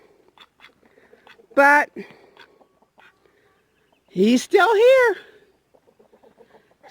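Ducks in a waterfowl squabble give a few loud, nasal quacks in short bursts, close by, between quiet stretches of faint rustling, with someone speaking briefly.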